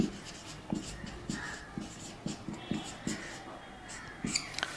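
Pen or chalk strokes from writing units and dimensions during a physics lecture, a series of short, soft scratches in an irregular rhythm, close and quiet.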